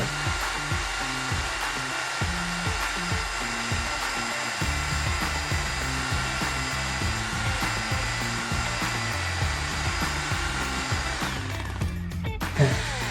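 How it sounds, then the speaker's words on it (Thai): A power drill bores into floor tile with hammer mode off, whirring steadily for a long stretch with a rhythmic grinding chatter, pausing and shifting near the end. "แต่เสียงสว่านดีขึ้นแล้วนะครับ เสียงสว่านไม่ได้กระแทกละ"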